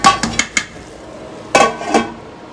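Green peas tipped into a pan for matar paneer, followed by a lid set on top: a quick run of sharp metallic clinks, a short pause, then two louder clanks close by.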